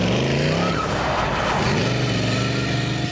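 The Tumbler Batmobile stunt car drives hard and skids, with loud engine roar and shifting tire squeal sweeping through the whole stretch.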